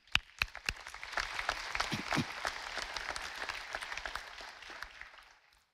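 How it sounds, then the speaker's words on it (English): Audience applause at an Executive MBA and Health Analytics graduation ceremony: dense, steady clapping from a crowd, a few sharp claps at first, then a sustained patter that slowly fades out, heard at some distance. "They cannot be here, but we still applaud them."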